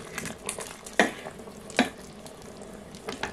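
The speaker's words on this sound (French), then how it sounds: "Je laisse mijoter un petit peu." Peas and vegetables simmer in a pan with a soft, steady bubbling sizzle, broken by two sharp utensil clinks close by.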